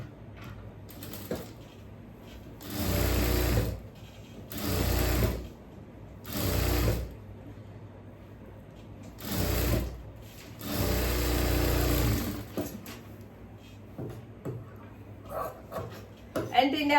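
An electric sewing machine stitches a cross piece onto a churidhar yoke neck in several bursts of steady, close whirring separated by pauses, with faint speech and handling noise between runs.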